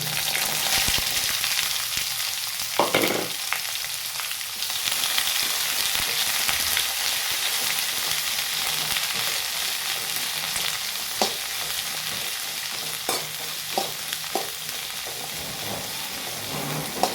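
Cleaned, chopped small shallots fry in a pan with a steady, bright sizzle, while a few sharp clinks from stirring stand out near the end. Nobody talks.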